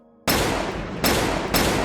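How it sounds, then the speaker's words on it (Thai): Three loud gunshots ring out in quick succession, each a sharp blast followed by a brief echoing decay. "เสียงปืนดังขึ้นติดติดกันหลายนัด"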